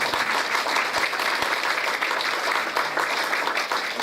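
Steady, full applause from a seated crowd opening a book launch celebration, continuous dense clapping for several seconds with no speech on top.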